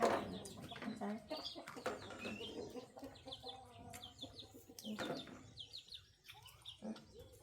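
Chickens cluck and chirp in short, scattered bursts around a rural garden plot, fairly faint amid busy outdoor rustling and knocks.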